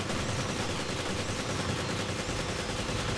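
Gunfire in Resident Evil Revelations Raid Mode comes as a dense, unbroken rapid stream of shots, loud and close, with no talk over it.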